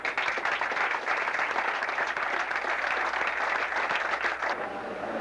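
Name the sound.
applause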